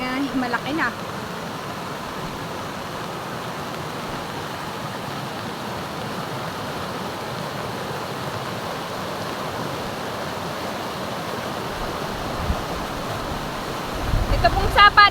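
Swollen, muddy mountain stream fed from the hills during heavy typhoon rain, rushing in a steady, loud broadband roar that holds throughout, with a brief rustle or handling noise near the end.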